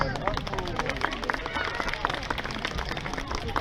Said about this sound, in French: Hop là, on peut l'applaudir.